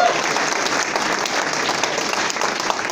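Audience applause fills a Lincoln Day Dinner banquet hall for Republicans in Warren County, a steady, dense wash of clapping from many hands that holds at an even, loud level throughout without a break.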